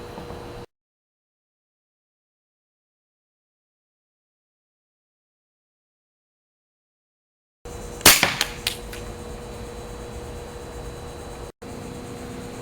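A homemade airgun fires once, a sharp near crack followed by a short rattle and a few softer clicks, over a steady background hiss after a long stretch of silence.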